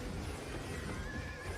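A horse neighs in the video game Albion Online, a single loud whinny heard alone over a dense, steady game soundscape.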